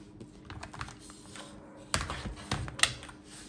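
Keys clatter on a computer keyboard in quick, irregular taps, close and moderately loud, with a few sharper, heavier strokes near the end and no talking.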